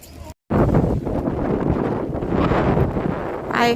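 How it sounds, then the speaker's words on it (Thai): Strong wind buffets the microphone on a sunny day at Wat Muang temple in Wiset Chai Chan, Ang Thong, Thailand: a loud, steady broadband roar that cuts out briefly near the start, then blows continuously without pause. "วันนี้ลมค่อนข้างแรงค่ะ"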